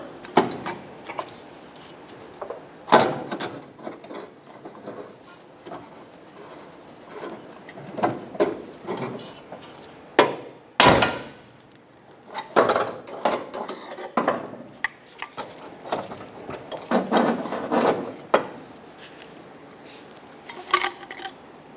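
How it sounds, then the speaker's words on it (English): Metallic clanks, scrapes and ratcheting knocks come from loosening and removing the inner tie rod of a 2012-2016 Subaru Impreza with large pliers or a removal tool, irregular close bursts of working noise with quiet gaps and no speech. "Using either a large set of pliers or a inner tie rod removal tool, we are going to remove the inner tie rod."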